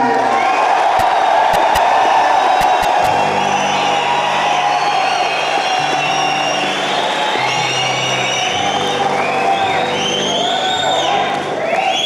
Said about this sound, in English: You all started whistling.